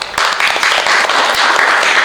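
A classroom of students claps for a classmate's answer, a loud, close burst of many hands clapping continuously and evenly.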